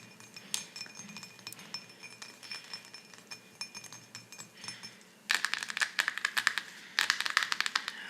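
Plastic and porcelain watercolor mixing palettes clinking, close ASMR-style taps and scrapes, first soft and scattered, then sharper, brighter rapid clinks in two bursts near the end.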